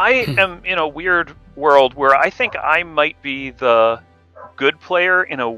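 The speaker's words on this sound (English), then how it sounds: "I'm sorry about the dogs." Dogs bark intermittently in the background during a Blood on the Clocktower game session, partly masked by steady, close talking.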